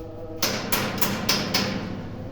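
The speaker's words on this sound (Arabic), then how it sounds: "خد يا باشا الشاكوش كده، دوج" Hammer taps on welds of an assembled battery pack make five evenly spaced sharp metallic knocks, fairly close and loud, with no talking over them.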